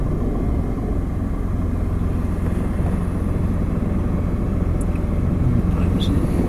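A car creeps slowly forward during a beginner's driving lesson in a driving-school car, giving a steady low engine and rolling rumble throughout with no distinct events.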